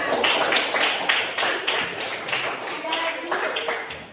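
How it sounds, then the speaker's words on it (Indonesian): Applause from a classroom of students during a junior high social studies lesson in Indonesia: a dense, steady patter of many hands clapping that continues for several seconds at moderate loudness. "kasih tepuk tangan"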